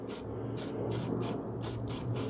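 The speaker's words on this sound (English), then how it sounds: "I'm going to spray a little bit of dye penetrant around there," Dye penetrant sprayed from an aerosol can onto a welded aluminium alloy sump, about six short hissing bursts in a fairly even rhythm, close by over a low steady background hum.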